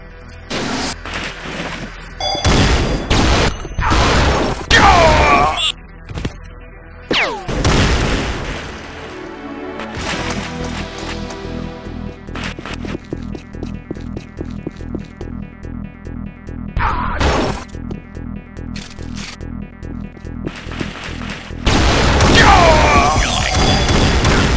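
Booming explosions and bursts of weapon fire from the video game Unreal Tournament arrive in loud irregular clusters, separated by stretches of steady pulsing background sound.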